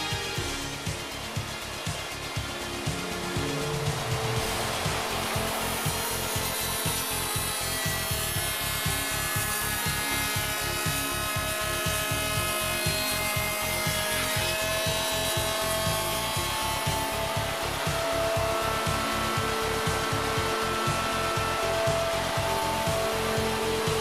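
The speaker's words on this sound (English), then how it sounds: "Difficult and expensive joints, such as this scarf joint, can be called up as a macro with the push of a button and can be cut quickly and precisely" A Hundegger K2i joinery machine cuts a scarf joint in timber, a continuous loud machine whine and grinding saw noise with rapid rhythmic pulsing that runs unbroken for the whole stretch.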